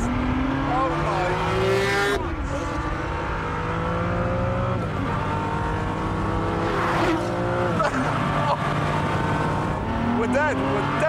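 A car accelerates hard, its engine revving high through rising gear sweeps with brief dips at each shift, loud and continuous, while a voice speaks in the cabin.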